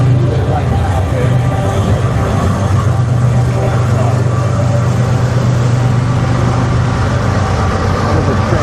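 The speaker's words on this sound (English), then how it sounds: "You can hear the train moving through here" A train rolls through Kennesaw, Georgia, giving a steady, loud low rumble and continuous rolling noise that holds unbroken for the whole stretch, with no voices over it.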